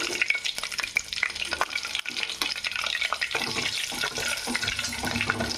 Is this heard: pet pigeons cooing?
no